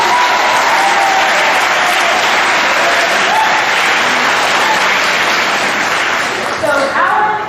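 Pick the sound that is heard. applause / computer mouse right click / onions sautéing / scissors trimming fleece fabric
applause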